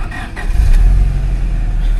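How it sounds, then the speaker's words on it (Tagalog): A Honda Civic SiR sits with its engine idling quietly, a low, even rumble close by, with no revving and no talk over it. "So sound check natin siya boys. Pakinggan nyo kung gaano katahimik tong kotse na to."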